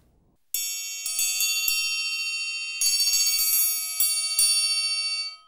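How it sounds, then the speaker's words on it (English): A Grover Pro bronze series triangle struck repeatedly, its bright, shimmering ring sustaining and overlapping between strikes, close and clear with no talking. "Here is our bronze series triangle. It's a beautiful sounding triangle."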